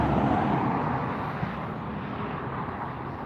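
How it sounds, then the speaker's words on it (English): A Frontier airliner taxiing at LAX airport, a steady broad jet engine rumble and whine held at a fairly constant level, moderately distant, with no talk. "And we've got Frontier taxiing up now."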